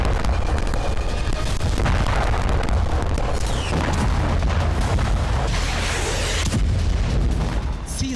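Rolling booms and heavy blasts from Israeli air strikes in Gaza, dense and loud, one rumbling detonation running into the next with no clear gaps.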